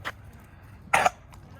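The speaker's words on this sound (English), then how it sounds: "She's got a little cough going on." A dog with a little phlegm in her throat gives a short, harsh cough burst near the middle, with a fainter one at the start, close by and otherwise quiet outdoors.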